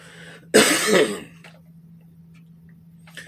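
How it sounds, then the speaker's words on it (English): A single harsh cough, loud and close, followed by quiet room hum and faint ticking. "I'm going to cough here in a second."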